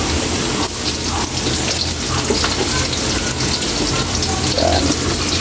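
Onion and garlic sizzle in hot oil in a pan while beef papaitan is cooked, a steady, close, crackling hiss that continues without break and has no talk over it.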